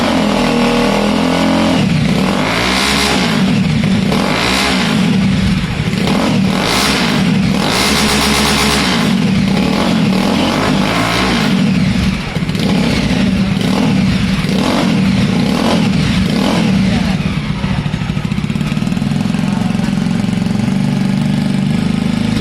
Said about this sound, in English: So here is the sound of one of the Java which has that modification done.